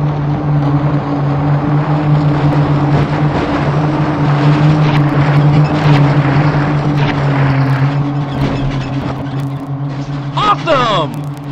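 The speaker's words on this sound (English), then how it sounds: "off-roaders, start your engines." Off-road vehicle engines race in the video game Test Drive Off Road 2, a loud, steady droning roar with a sustained low hum and a brief rising whine near the end.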